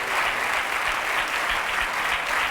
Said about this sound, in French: applaudissons bien sûr Baptiste, le plus proche de la réponse